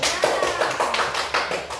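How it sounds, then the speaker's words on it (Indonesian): A primary school class claps hands together in a classroom during a lesson on Asmaul Husna, a short burst of brisk, uneven applause from many small hands, fairly close and alone without talk. "Tepuk tangan"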